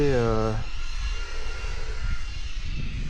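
An SNRC S86GT V2 RC car motor warming its tires gives a rising high whine that cuts off, followed by quieter rumbling and handling noise, close by.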